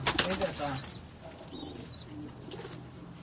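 Pigeons kept at home cooing softly in low, rolling murmurs, close by, with someone talking over them and a few faint chirps.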